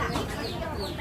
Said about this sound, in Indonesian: ayam makan nasi